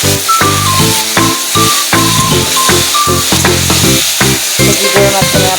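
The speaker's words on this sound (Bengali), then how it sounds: "এই দিয়ে আমি ভালো করে ভেজে নিচ্ছি" Food fries and is stirred in a pan in a home kitchen in Jalpaiguri, giving a constant loud hiss and sizzle beneath prominent melodic background music.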